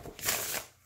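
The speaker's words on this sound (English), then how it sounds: "it's wonderful when you trim a deck and it still rifle shuffles" Rifle shuffle of a trimmed, borderless tarot deck: a single soft, papery riffle burst with a quick flutter of cards, close and fairly quiet, with no talk over it.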